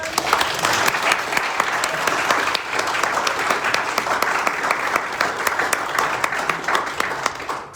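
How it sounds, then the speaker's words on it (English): An audience breaks into sustained applause, many hands clapping steadily for several seconds. "I want us to all give Charles a round of applause for coming"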